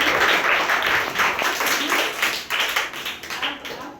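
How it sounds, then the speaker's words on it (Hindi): A class of students clapping together in a room, a dense, loud burst of applause that holds for several seconds before tapering slightly at the end. "ताली बजाओ इस"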